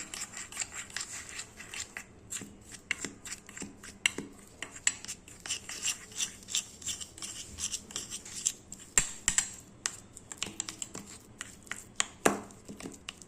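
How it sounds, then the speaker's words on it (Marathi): A whisk scrapes and taps quietly against a bowl while maida flour is beaten into ghee for bakery-style khari, with irregular light clicks and rubbing strokes throughout. "ह्या तुपामध्ये आहे ना मला थोडंसं मैद्याचं पिठेनं असं फेटून घ्यायचं"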